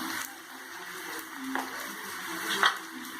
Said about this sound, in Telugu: ఇప్పుడు మళ్ళీ ఒకసారి మనం పోపుని బాగా కలుపుకోవాలి